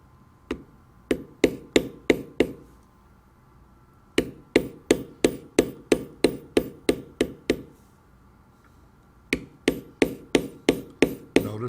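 Steady rhythmic hammer taps on a large checkered leather beveler, played out in three bursts of sharp, evenly spaced strikes with short pauses between while the outline of a carved leather rainbow trout's fins is tooled.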